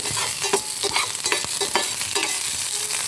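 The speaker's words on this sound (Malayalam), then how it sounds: "നമുക്ക് ഇളക്കി കൊടുക്കാം ഇതെല്ലാം കൂടി വറക്കും" Ingredients frying in a pan for vadukapuli lemon pickle, a continuous close sizzle with brisk, rhythmic scraping strokes of a spoon stirring through it, alone with no speech.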